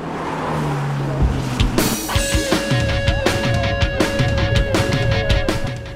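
A car climbing the Col de la Madeleine mountain pass road, engine droning steadily with repeated gear changes and short revving bursts, close and loud throughout.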